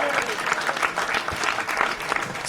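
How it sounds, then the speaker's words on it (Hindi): Enthusiastic audience applause at a comedy talent show, a dense steady patter of many hands clapping throughout, fairly close and loud, with a few scattered voices mixed in. "पर जोरदार तालियां यार"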